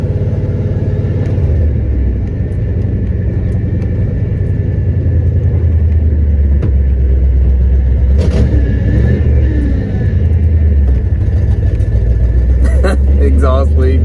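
A Ford Mustang King Cobra T-Top 5.0 with an exhaust leak cruises along, its engine rumbling loudly and steadily up close inside the car with a few brief revs, while someone talks over the drone.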